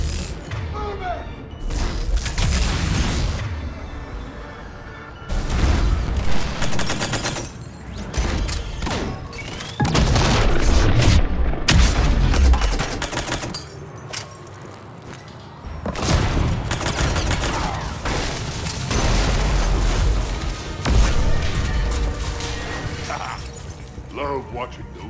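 Explosions and gunfire rage through a Mass Effect 3 battle on the Citadel, loud bursts and crashes coming in dense waves across the whole stretch, with voices talking over the combat.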